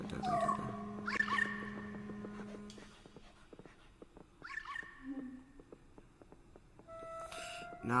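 A dog in Luigi's Mansion 3 whimpers and yips in short, high bursts, scattered through game music and effects, with a brief growl-like pulse partway through.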